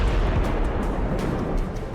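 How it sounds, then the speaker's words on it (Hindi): A missile strike on a military site in the Iran–America war, heard as a continuous deep rumbling blast with heavy low-end roar sustained throughout, loud and close, with no voices. "लड़ाकू जेट जब मिसाइल दागता है तो ईरान के मिलिट्री ठिकानों को एक धमाके में धूल में मिला दे रहा है।"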